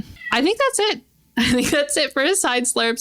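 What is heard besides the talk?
cat meowing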